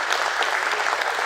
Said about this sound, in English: let the claps be louder and go on for a few more seconds